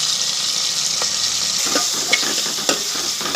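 Tomato pieces with turmeric cooking in hot oil for a mutton curry, a steady close sizzle with a few soft stirring scrapes near the end.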